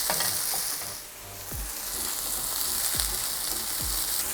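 Mushrooms frying in a hot pan give a dense, steady sizzle close up, with a few low knocks from the pan as the cooking carries on alone without any voices.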